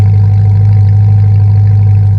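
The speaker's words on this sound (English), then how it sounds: "It has a really sick idle sound." A big truck with remote start idles loud and steady, its deep exhaust rumble holding a constant low drone close up, with no talking over it.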